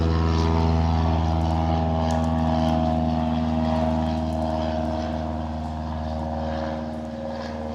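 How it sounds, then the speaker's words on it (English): A propeller airplane drones overhead, loud and steady with a throbbing engine tone, slowly fading slightly as it passes; no talking. "oops, sorry for the airplane"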